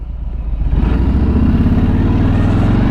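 A Harley-Davidson Street Bob's Milwaukee-Eight V-twin rumbles loud and close, its low pulsing exhaust firing steadily as the engine builds from a lope into a strong, even drone.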